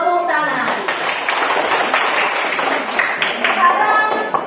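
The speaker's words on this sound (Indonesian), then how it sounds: "silakan tepuk tangan" Classmates in an Indonesian classroom clap together after a group presentation, a dense burst of hand claps with children's voices mixed in throughout.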